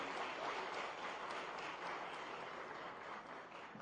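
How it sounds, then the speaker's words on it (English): Faint, distant applause from a crowd, a soft continuous patter of clapping that holds steady and tapers slightly toward the end. "Please give a round of applause."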